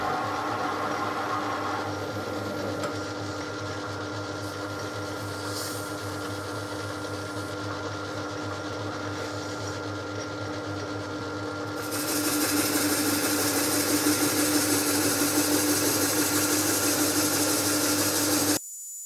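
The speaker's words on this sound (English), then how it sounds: "The cast iron cylinder is fit into the lathe and is turned to obtain suitable outer diameter." A lathe turns a fine-grained cast iron cylinder to its outer diameter for piston rings, a steady mechanical hum with cutting noise that grows louder and brighter partway through, with no voices.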